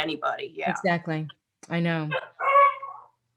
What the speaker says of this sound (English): Who's that? That's my dog.